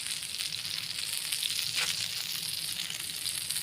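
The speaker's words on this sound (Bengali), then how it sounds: "দেখো চলছে কিন্তু মাছ ফ্রাই" Fish frying in oil in a pan on a gas stove, a steady close sizzle and crackle that holds evenly throughout with no talking.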